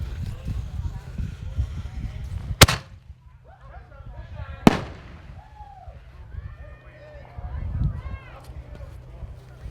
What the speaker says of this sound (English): the fireworks were lit at high noon to officially begin the 12th annual Real Fun Ice Fishing Tournament